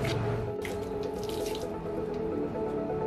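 Water from a tap splashes steadily as a monstera plant with stem rot is rinsed off after a fungicide treatment, a continuous close gushing with faint drips and no talking.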